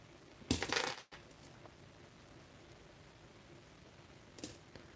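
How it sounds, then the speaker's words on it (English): A waffle error coin is handled and clinks, a loud metallic rattle followed by a fainter second clink against a quiet background. "Waffle coin."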